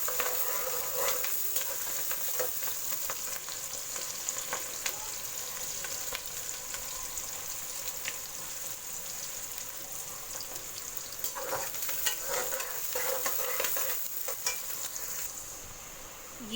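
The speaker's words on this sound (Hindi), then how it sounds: "ये जो 2 कप हमने कटे हुए प्याज थे ये शामिल करेंगे। इसको भी हम थोड़ा सॉफ्ट कर लेंगे" Two cups of chopped onions sizzle and fry steadily in a pan for a qofta masala, with occasional stirring scrapes over the continuous crackle and no talking.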